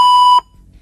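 A single loud electronic beep from a mobile phone before an answering machine message, a steady pure tone lasting under half a second before cutting off to near silence.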